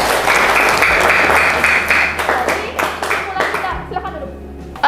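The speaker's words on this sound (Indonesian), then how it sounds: "Tepuk tangan pada Joy" A classroom of students applauds a classmate after a science presentation. The clapping is loud and close at first, then thins into scattered claps as it fades, with faint voices underneath.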